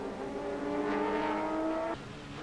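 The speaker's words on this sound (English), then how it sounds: "This is on board with Ito in that Honda NSX, pushing things to the max." A Honda NSX GT race car is heard onboard during 2002 Japan GT Championship racing, its engine note climbing in pitch under throttle, then abruptly dropping at a gear change.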